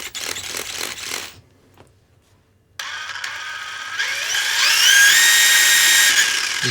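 The motor and steering servo of a Kyosho Optima Mid 87 RC car chassis buzz in short bursts, then fall quiet before a rising, whining electric motor sound that climbs and holds near the mic, with no talking.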